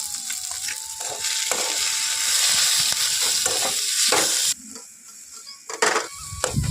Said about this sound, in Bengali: মশলাটা আমার খুব ভালোভাবেই ভাজা হয়ে গেছে